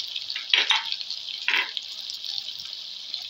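Tomato with coriander, red chili, turmeric, salt, garam masala and cumin fries in a pan. A steady sizzle is broken by two louder bursts of stirring near the start, with no talking.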